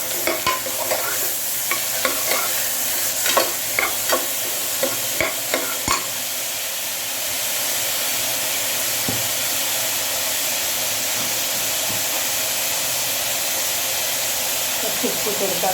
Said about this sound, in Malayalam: കുറച്ച് ഉപ്പ് കൊടുത്താൽ നല്ലതുപോലെ നമുക്ക് വഴറ്റിയെടുക്കാം.